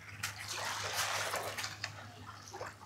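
Water splashes and trickles steadily during face washing at a seaside camp in a Fethiye bay, with close, continuous running and splashing throughout.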